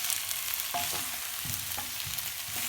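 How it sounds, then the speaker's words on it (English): Potatoes tossed into fried onions, ginger and garlic sizzle steadily in a pan, broken by repeated knocks and scrapes of stirring; no voices. "I've just thrown the potato into the fried onions and ginger and garlic."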